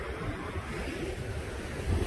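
Ocean waves and gusting wind on a beach at Gulf Shores, Alabama, a steady roar of surf with low wind buffeting on the microphone, no voices.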